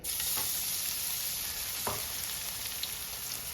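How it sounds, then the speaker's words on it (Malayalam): Ginger garlic paste sizzles steadily in hot sunflower oil in a pan, with a constant close frying hiss and a couple of soft stirring scrapes, no voices. "നമ്മുടെ എണ്ണ ചൂടായി വന്നിട്ടുണ്ട് നമുക്കിതിലേക്ക് ഒരു ടീസ്പൂൺ ഇഞ്ചി വെളുത്തുള്ളി പേസ്റ്റ്"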